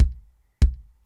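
Two acoustic kick drum sample hits, evenly spaced about half a second apart, each a loud, close thump with a short decaying low body and a bright click on the attack, alone with nothing else playing.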